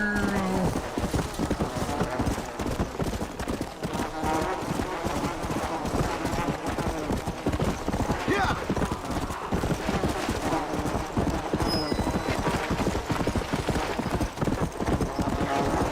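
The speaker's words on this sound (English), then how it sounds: "you at least have to ride the horse pretty far in order to get to where you need to go" Horse hooves clip-clopping at a steady riding gait in Red Dead Redemption Undead Nightmare, loud and continuous throughout, with someone talking over the rhythmic hoofbeats.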